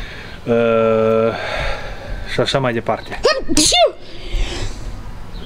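A single loud sneeze bursts out after a few words of speech, with a short sustained tone just before it.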